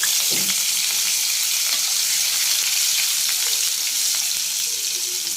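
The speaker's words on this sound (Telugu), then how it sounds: "ఇప్పుడు మనం అల్లం వెల్లుల్లి పేస్ట్ అనేది వేసుకుంటున్నాము." Ginger garlic paste sizzles in hot frying oil for a cauliflower egg curry. The hiss is steady and loud, with faint clinks from stirring and no voices.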